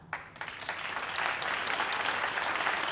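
Audience applause following the recitation of Giovanni Bondi's poem "Rio boia" by Walter Nenci, a steady wash of many hands clapping that swells after a brief quieter start and holds at a moderate, fairly distant level.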